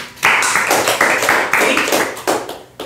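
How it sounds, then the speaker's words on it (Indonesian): A small group claps hands at an outdoor gathering: bursts of brisk clapping in several short waves with brief dips between them, close and fairly loud, with a little chatter underneath. "Tepuk tangan dulu dong."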